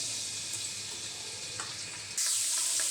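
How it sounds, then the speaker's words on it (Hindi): Garlic, about a tablespoon, frying in oil left over from frying chicken, giving a steady close sizzle that jumps abruptly to a louder, brighter crackle as it hits the hot oil. "जो मैंने चिकन फ्राई किया वही तेल डाल रही हूँ मैं। लहसुन डाल देंगे 1 टेबल स्पून।"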